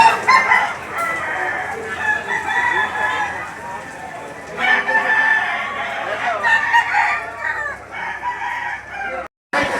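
Chickens and roosters at an indoor poultry market in Lipa City, Batangas, on a rainy day, with roosters crowing repeatedly and hens clucking close by, under a busy background of people talking.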